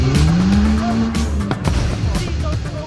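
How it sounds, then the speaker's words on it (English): Modified cars at an evening car meet in Bristol rev hard, with a rising engine note punctuated by sharp exhaust cracks and pops, loud and close, over a busy crowd background. "You can hear the cracks of the engine, building up the energy."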